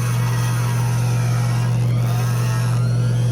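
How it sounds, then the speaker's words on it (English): A power tool roughs out a hand-carved stone pipe with a steady, close, unbroken motor drone and a strong low hum that holds even from start to finish. No talking. "I'll use some power tools to rough it out."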